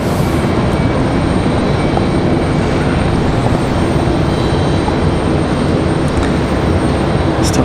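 The ABC 11 news helicopter heading back to its hangar at Raleigh-Durham airport makes a loud, continuous rotor and engine roar, dense and steady with no letup, without any talking.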